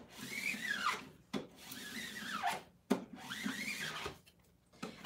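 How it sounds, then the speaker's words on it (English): A squeegee is dragged in three firm, scraping strokes across a vinyl stencil on a screen-printing screen, each rasping pass separated by a brief pause. "I'm going to burnish one more time with my squeegee."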